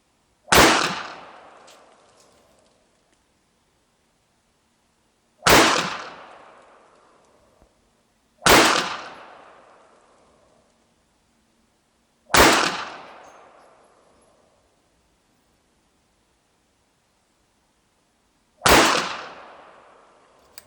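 A Saber Gear SG9 airsoft gun firing cartridges: five loud, sharp single shots, each with a short ringing decay, spaced several seconds apart with quiet between them.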